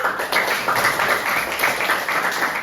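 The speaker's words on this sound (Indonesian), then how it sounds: "Tepuk tangan buat kita semua." A classroom of students claps together, giving a dense, continuous patter of many hands at a fairly even level for a few seconds with no gaps.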